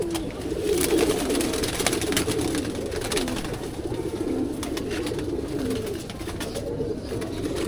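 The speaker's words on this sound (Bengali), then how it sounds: "সিলের কবুতরের বাচ্চা দেখেন দেখেন" Pigeons coo steadily in a loft holding Fitki pigeon chicks, soft repeated low warbling calls layered over a busy background of shuffling and clicking noise, with no talk.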